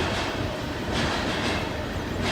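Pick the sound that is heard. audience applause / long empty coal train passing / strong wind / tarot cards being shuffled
long empty coal train passing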